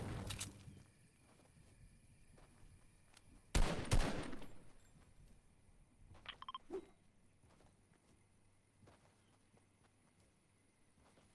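A short burst of loud, sharp gunfire in the Fortnite game, heard during a PlayVS Fortnite preseason match, with a couple of scattered later shots, over a quiet game-sound background.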